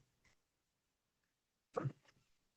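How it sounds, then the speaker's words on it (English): A single quiet, sharp sneeze bursts out after a faint breath, then everything goes quiet again. "Pardon my sneeze."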